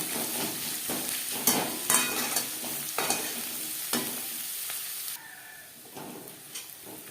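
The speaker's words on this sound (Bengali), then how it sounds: "পেঁয়াজ লালচে করে ভেজে নেব।" Onions with slit green chillies fry in a pan until reddish, a continuous sizzle broken by repeated scraping stirs of a spatula, the hiss dropping softer near the end.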